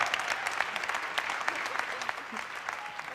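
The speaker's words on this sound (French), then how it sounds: "je veux vraiment que vous l'applaudissiez" Steady applause from an audience at an awards gala, a dense wash of many hands clapping at moderate level throughout, with no voices standing out.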